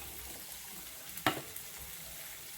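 Beans, carrot and green peas sauté in oil for semiya upma, a soft continuous sizzle broken by a single sharp scrape of a spoon against the pan.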